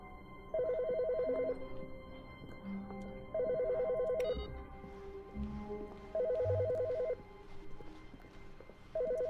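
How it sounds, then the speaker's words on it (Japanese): Office telephone ringing in The Stanley Parable video game, three evenly spaced trilling rings, each lasting about a second, over soft game background sounds and low footsteps, with no speech. "電話。"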